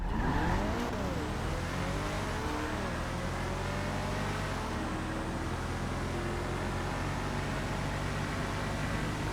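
Paragon S sports car in GTA Online launching in a straight-line drag test, engine revving up through rising gear shifts into a sustained loud, steady high-pitched drone with brief tire squeal at the start.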